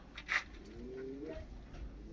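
A low, soft pigeon coo rolls out in the middle, faint against a quiet outdoor background with a brief flutter or rustle near the start.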